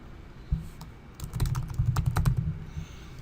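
Keys clatter on a computer keyboard as an app nickname is typed. A single tap comes first, then a quick run of close, fairly loud keystrokes lasting about two seconds.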